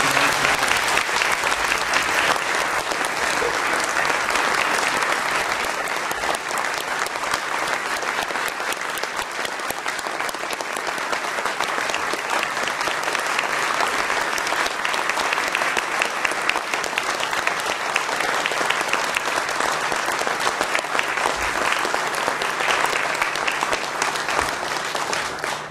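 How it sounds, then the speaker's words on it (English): An audience at a memorial gathering gives a long, sustained round of applause, dense steady clapping filling the whole stretch with no voices over it. "Let's have one more great round of applause."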